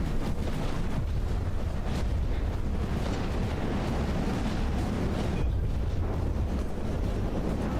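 Torpedo explosions in the naval battle game From the Depths rumble as heavy, continuous low booms mixed with a rushing, wind-like roar, loud and dense with occasional sharper bursts.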